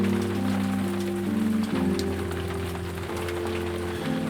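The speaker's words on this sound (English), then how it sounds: "More rain, more rain." Steady rain falls on a surface in a continuous wash, with a layer of low tonal hum running underneath and no voices.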